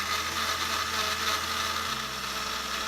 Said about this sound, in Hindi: थोड़ी लहसुन की कलियां और हरी मिर्च डालेंगे 2 और अब इसे ग्राइंड कर लेंगे